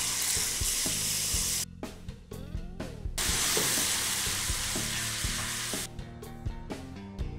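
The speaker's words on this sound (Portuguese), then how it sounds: "então vamos entrar com o tomate pelado." Peeled tomatoes go into a pan of vodka sauce for penne alla vodka, giving a loud, steady sizzle with brief dips where the hiss drops away before resuming strongly.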